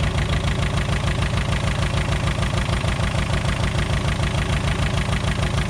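A Volkswagen Scirocco MK2 with an ABF engine idles steadily right after a carburettor rebuild, a close, loud, even engine rumble with a fast regular pulse that holds alone without talk.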